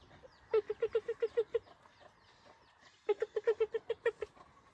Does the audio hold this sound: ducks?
yes